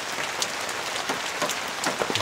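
Heavy rain pours down at a campsite, a dense continuous patter with sharper drops striking a surface close by, no voices.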